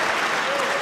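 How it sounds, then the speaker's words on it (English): Audience applause at a women's badminton final at the 2012 World Open in Russia, a dense, steady patter of clapping from the crowd filling the hall, with a faint voice over it. "Gavin Rumgay applauding next to me"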